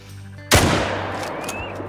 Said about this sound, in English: let's shoot some blacktail